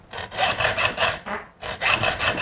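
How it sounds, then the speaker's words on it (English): An old toothless hacksaw cuts through a satellite antenna part in a garage, making loud, close rasping strokes in a steady back-and-forth rhythm, about six strokes with a brief pause in the middle. "Just hack this up in the garage here with the old toothless hacksaw"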